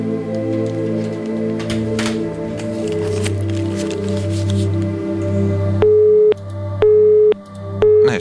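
After the call connection is lost, a telephone busy signal sounds as three evenly spaced, loud, clean tone pulses. They follow a muffled stretch of background noise.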